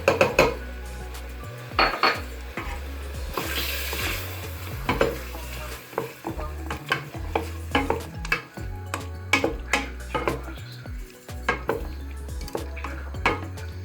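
Spoon scraping and stirring tomato paste into sizzling fried onion and meat in a metal pan, with steady frying hiss and repeated close utensil clinks against the pan.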